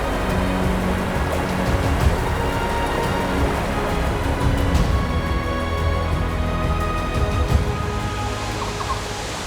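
A cascading waterfall roars as a loud, steady broadband rush of falling water that fills the whole clip without pause.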